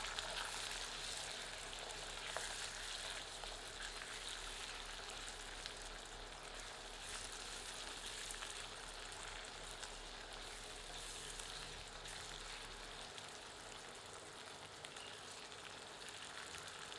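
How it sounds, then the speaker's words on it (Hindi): Onions frying in oil over low heat, giving a steady, soft, even sizzle that holds throughout with no talking. "प्याज को हमें इस तेल में धीमी आंच पर भूनना है"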